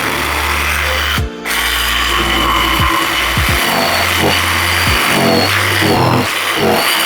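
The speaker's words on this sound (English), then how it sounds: "Just 2 cutouts with a jigsaw just so you can see what the difference is" Jigsaw cutting shelf cutouts around pipes, a loud close buzzing whine that runs continuously for several seconds, changing pitch as the blade works, with one brief stop and restart.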